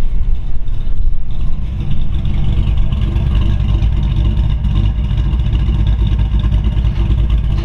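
A 1934 Ford Woody Wagon street rod engine runs loud and close, a steady deep idle rumble that swells into revs, with no talk over it.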